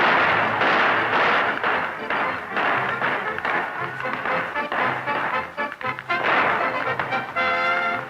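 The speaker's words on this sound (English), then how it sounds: "they blast their way into the harbor, firing every gun that bears" Guns on a pirate ship fire into a harbor during a 1950s Gasparilla celebration. Repeated booms and thuds ring out over a dense crowd and music-like din.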